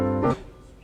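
A single sustained keyboard chord with the release set to zero stops abruptly, with no tail lingering after the keys lift, leaving near silence behind.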